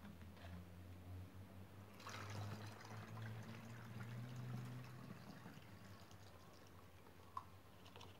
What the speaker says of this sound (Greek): Θα βράσουμε νεράκι. Και θα το ρίξουμε μέσα.